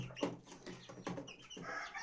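A few chicks give short, faint peeping and clucking calls in quick, uneven bursts, close by with no talking.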